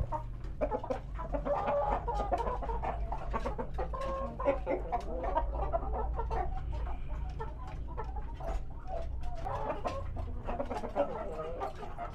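Thai Ratu Siam chickens cluck and chatter softly while being fed by hand, a continuous flurry of short clucks and peeps at moderate distance with a low background hum.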